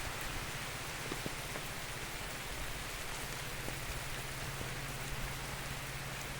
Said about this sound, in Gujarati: ત્યારે વરસાદ શરૂ છે જોઈ શકો છો